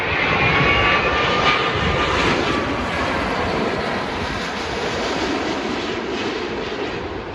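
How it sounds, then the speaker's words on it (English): Large passenger airliner landing at Heathrow Airport at sunset, a loud continuous jet engine roar and whine heard fairly close, slowly easing in level over several seconds, no talk. "I love these big planes, man."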